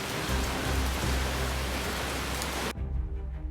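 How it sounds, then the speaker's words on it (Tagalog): Heavy drizzle falling steadily in a continuous, close hiss of rain on surfaces along a rural road, which cuts off abruptly near the end. "Malakas yung ambon."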